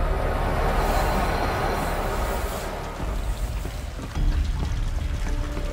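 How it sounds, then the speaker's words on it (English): Steady, full-bodied rush of flowing water in Horizon Zero Dawn, continuous and fairly loud across the whole stretch with a slight dip midway before surging again. "Water's flowing, just where it needs to."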